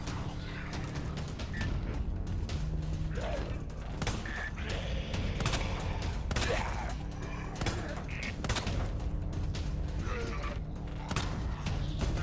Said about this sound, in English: Yeah, the shotgun.